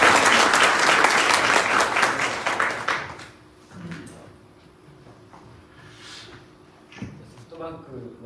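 Audience applause at a business seminar held with SoftBank, a dense burst of clapping for the first three seconds that quickly thins to scattered claps and quiet room noise.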